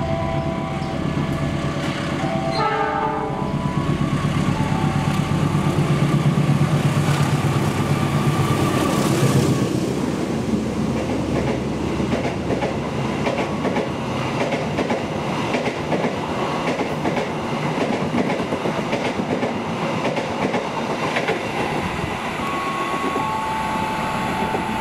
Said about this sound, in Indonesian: Kemudian jalur 1 melintas kereta api Gaya Baru Malam Selatan